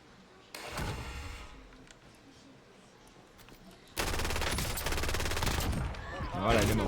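Rapid automatic gunfire from a favourite weapon in a French-language online battle-royale shooter game, bursts of loud shots starting early then a denser sustained volley later, mixed with voices talking.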